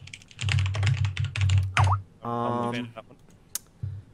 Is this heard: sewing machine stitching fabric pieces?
no